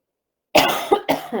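A sharp burst of coughing, three close harsh coughs after a moment of silence, loud and near.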